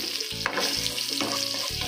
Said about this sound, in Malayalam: ഇതിലേക്ക് ഞാൻ 4 വറ്റൻമുളക് ഇട്ട് കൊടുക്കുകയാണ്.